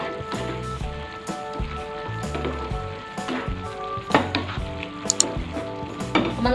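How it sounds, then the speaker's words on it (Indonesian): A rice and chicken mixture with mushrooms simmers and sizzles steadily in a pot as its water cooks down, with faint clinks of a utensil and soft music underneath. "Lalu ini kita masak lagi sampai airnya menyusut."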